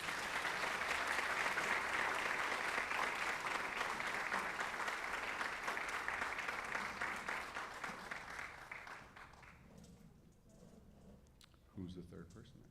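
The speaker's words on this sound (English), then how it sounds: "give a round of applause for these athletes" Crowd at a high school athletics signing day applauding the athletes. Dense, sustained clapping gradually thins and fades out, followed by a brief sound near the end.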